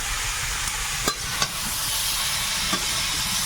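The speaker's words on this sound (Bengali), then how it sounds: "আলু বেগুনটা ভালো করে ভেজে নিয়েছি" Potatoes and eggplant frying in a pan over a wood fire, a steady close sizzle with a few sharp stirring clicks and scrapes breaking through.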